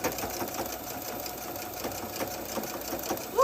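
A Brother sewing machine runs steadily at close range, a continuous mechanical whir with a fine rapid stitching pulse throughout, growing louder near the end with no talking.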